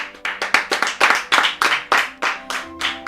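A circus audience claps in an irregular series of sharp, close hand claps, loud and unaccompanied, with a faint tonal hum underneath.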